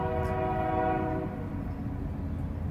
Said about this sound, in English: God damn it, fucking train.